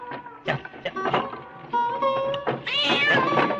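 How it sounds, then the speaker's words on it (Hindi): A cat crossing the path meows in a string of short, clear, rising-and-falling calls, fairly close and loud, over soft outdoor background sounds. "देख तो बिल्ली रास्ता काट गई।"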